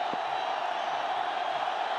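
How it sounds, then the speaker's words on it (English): A cricket stadium crowd roars wildly at a night match, phones and lights up as Lasith Malinga bowls for a hat-trick: a loud, dense, steady wall of cheering that holds for the whole stretch. "Well, the crowd's gone wild."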